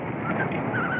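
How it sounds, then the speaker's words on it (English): Steady rumbling wind buffets the microphone, a constant blustery roar with no pauses, outdoors on a city street. "it's really windy."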